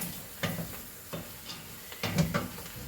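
Cabbage frying in a pan with bacon, stirred by hand: a soft sizzle underlies a few distinct scraping strokes of a utensil against the pan, close and moderately quiet, with no talking.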